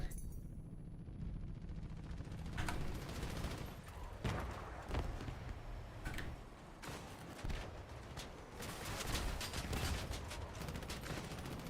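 A video game minigun winds up and fires in sustained bursts, a dense, roaring stream of rapid shots that swells and dips across the stretch, loud and continuous with no talking.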